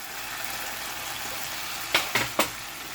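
Bell peppers with capers sizzle and fry steadily in a hot pan, with a few sharp clacks of a utensil stirring against the pan near the end.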